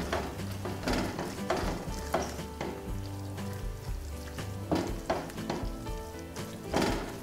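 Chicken and sauce filling being stirred in a frying pan, with a soft sizzle and intermittent scraping strokes of a utensil against the pan, moderately quiet and close, with no talking.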